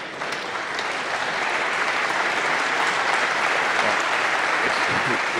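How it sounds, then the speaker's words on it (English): A snooker crowd at the 2017 Masters quarter-final between Robertson and O'Sullivan gives a steady round of applause after a shot, with a commentator's voice faintly beneath the clapping. "He's getting a round of applause."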